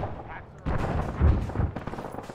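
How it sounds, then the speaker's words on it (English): Heavy booming mortar fire thuds and rumbles in a military shooter game set in a frozen landscape, with several dull blasts rolling together over a steady background. "We got mortars on them now"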